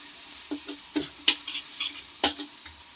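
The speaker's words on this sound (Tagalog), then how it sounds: "Mag-isa po ulit tayo ng bawang na sariwa." Fresh garlic sautéing in a pan for pork humba, with soft sizzling and a few light scraping stir strokes, close and fairly quiet.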